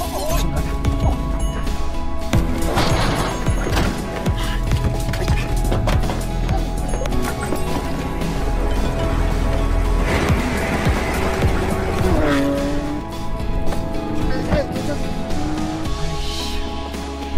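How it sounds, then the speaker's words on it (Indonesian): Car rammed by another car in a film chase scene: loud continuous engine roar with crunching impacts, scraping thuds and squealing tires layered over a dense score, no speech. "mobil mereka ditabrak mobil bodyguard Kim"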